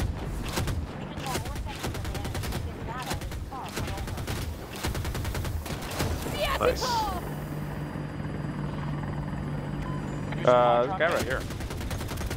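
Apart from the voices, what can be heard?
helicopter gunfire in video game Battlefield 2042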